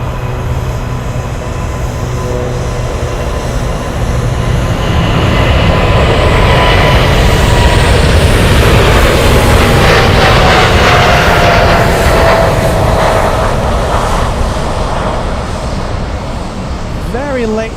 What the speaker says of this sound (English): Very late takeoff, that one eating a massive chunk of the runway.